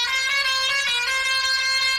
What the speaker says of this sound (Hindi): हॉर्न मारते हैं यार